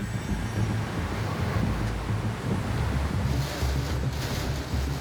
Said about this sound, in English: you can feel that gust. You know, that has to be up to 100 k's an hour now